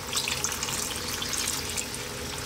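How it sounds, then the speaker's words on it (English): Water is poured into a pot of coconut chicken and potato curry, giving a short, even, hissing splash that stays steady throughout with no voices. "I'm also gonna add some water."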